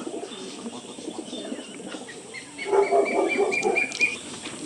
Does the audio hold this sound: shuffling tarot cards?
no